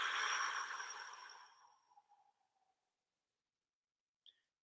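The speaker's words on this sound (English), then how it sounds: "breathing in the nose and out the mouth" A slow exhale through the mouth during a guided morning breathing meditation: one long, soft, breathy rush that fades over about two seconds into near silence, followed by a tiny faint click.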